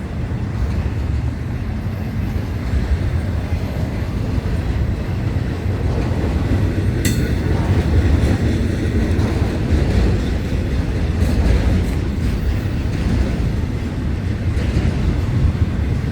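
A long freight train rolls steadily past outdoors in winter, a loud, continuous low rumble with wind buffeting the microphone and a few brief higher squeals.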